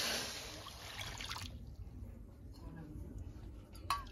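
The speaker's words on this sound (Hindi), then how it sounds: "ये मैंने दो कटोरी पानी दे दिया और मैं इसे दे देती हूँ गर्म होने के लिए" Water pours from a bowl into a pan for making sugar syrup for homemade sweets, a splashing stream for about a second and a half, then it stops, leaving quiet room sound and a faint clink.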